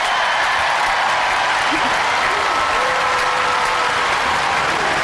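Studio audience at the Robot Wars Series 7 grand final clapping and cheering, a loud, dense, steady roar of applause filling the whole stretch with no let-up.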